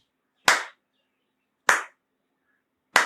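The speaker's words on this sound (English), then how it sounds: "Those who can increase the claps, number of claps, they can increase 5, 10, 6, 12, 7, 14, like that" Single sharp hand claps during a yoga breathing exercise, spaced about a second apart, crisp and close with silence in between.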